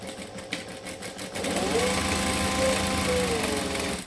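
A sewing machine stitches fabric rectangles together, starting with a few quiet handling noises before the motor settles into a loud, steady, even whir that runs to the end.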